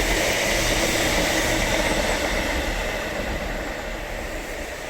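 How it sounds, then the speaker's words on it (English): A passing train rumbles nearby as a loud, steady, broadband roar that holds for several seconds and eases off gradually toward the end. "Got a train."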